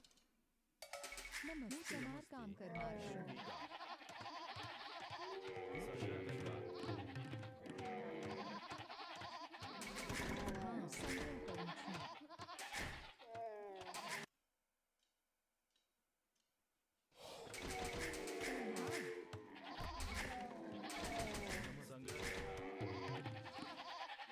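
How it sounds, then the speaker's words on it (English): Sheep bleat in the Age of Empires II strategy game, with the Gurjaras and Burgundians in play, sounding as short game cues over continuous game sounds and music, with a pause of near silence in the middle. "found an extra sheep"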